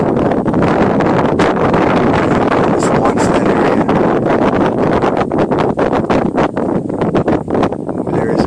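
Strong, cold outdoor wind buffets the microphone with constant rough roaring and gusty thumps, loud throughout, while someone talks over it.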